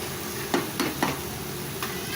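Mutton sautés in a hot pan with an even, close sizzle, punctuated by four sharp scraping strokes of a spoon stirring the meat, no voices.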